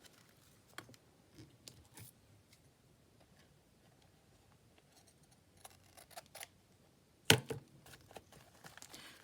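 Scissors snip along the edges of a junk journal spine, a series of soft, quiet cuts spread across the stretch with one sharper, louder snip near the end, no talking.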